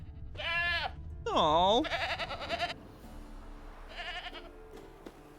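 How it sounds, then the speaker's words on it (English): A goat tied to a stake bleats in The Witcher 3, with several wavering bleats near and clear over quiet game ambience, and a voice murmurs briefly. "I hear the goat."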